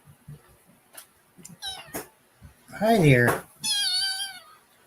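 Domestic cat meowing several times, drawn-out wavering meows that grow louder and longer toward the end, with a person briefly speaking between the calls.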